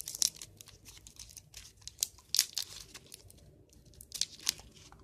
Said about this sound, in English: I'm ripping the paper off.